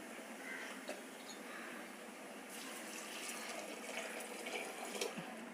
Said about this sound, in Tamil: இன்னும் இந்த சாம்பார் முழுகிற அளவுக்கு இன்னும் கூட தண்ணி விட்டுக்கலாம்.